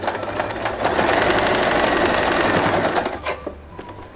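A sewing machine runs continuously as it stitches elastic onto palazzo pants, a fast buzzing rattle heard up close that slows and stops near the end.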